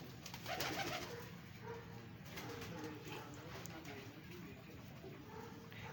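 Pigeons coo softly in a soft, low rumble against steady background noise. The cooing is faint and close, and no clear speech is heard.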